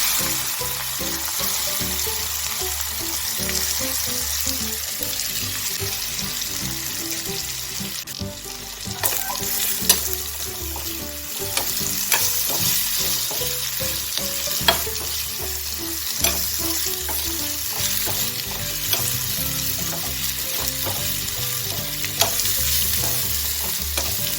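Spiny gourd pieces fry in hot oil with cumin, garlic paste and turmeric, a continuous close sizzle broken by repeated stirring scrapes, with no talking.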